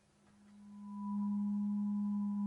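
A Korg Volca Modular synth with its output patched back to its input produces a steady, rising feedback drone of pure tones that swells from faint to loud and holds.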